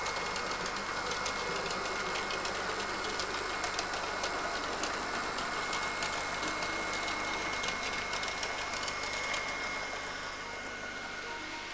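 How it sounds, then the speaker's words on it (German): A model railway cleaning train, made up of a cleaning wagon and a vacuum wagon and pulled by a locomotive weighted with lead, runs along the track with a continuous whirring motor hum, fine rail clatter and a thin high whine, then eases slightly near the end. "Er besteht aus einem Reinigungswagen und einem Staubsaugerwagen, und wird von einer mit Bleigewichten beschwerten Lokomotive gezogen."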